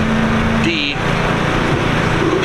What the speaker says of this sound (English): You hear the generator